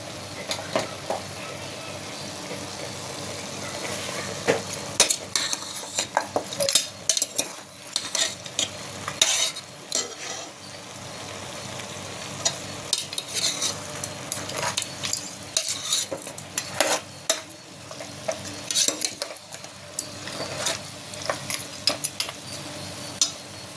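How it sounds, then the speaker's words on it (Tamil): Curry leaves and fennel seeds sautéing in hot oil for a homemade mutton curry, a soft steady sizzle broken by frequent scraping and clinking of a metal spoon stirring the pan. "இப்போ வந்து எண்ணெயில் வதக்குனது கொஞ்சம் வந்து வதங்கியிருக்கு"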